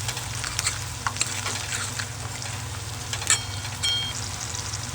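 Garlic fries and gets stirred in hot oil as green chillies are added, with a continuous sizzle and scattered sharp scraping clicks of a spatula, close and steady with no speech.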